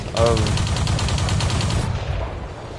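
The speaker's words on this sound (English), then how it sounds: "The PZ-1Z has a machine gun" A PZ-1Z tank's machine gun fires in World of Tanks, a rapid steady burst of loud shots for nearly two seconds, with a voice briefly heard over it.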